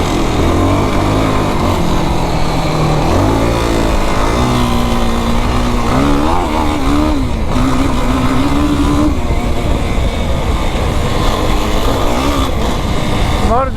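Kawasaki KFX 450R quad ATV engine revving hard while riding, loud and close, with the pitch rising and falling through repeated throttle changes and gear shifts.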